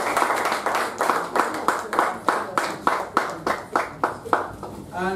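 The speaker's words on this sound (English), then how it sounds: "Please give the round of applause." A meeting audience gives a round of applause that settles into distinct, evenly spaced claps, roughly two per second, loud and close with no talk over them.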